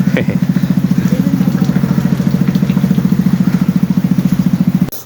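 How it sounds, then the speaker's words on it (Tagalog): A motorcycle engine warms up at idle, close by, with a fast, even putter that stays steady for several seconds, then stops abruptly at the end. "nagpainit na ako ng motor"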